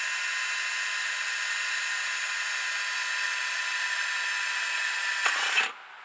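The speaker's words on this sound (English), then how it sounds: "I'll put a little mark on it where I want to drill it" A power drill whines steadily and loudly at constant speed while boring into an aluminum fence post, then briefly bites harder and stops abruptly near the end.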